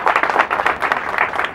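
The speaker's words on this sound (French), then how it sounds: "les applaudir, elles le méritent bien." Audience applause honoring mothers at a library inauguration held at a train station, a close, lively patter of many hands clapping at steady loudness.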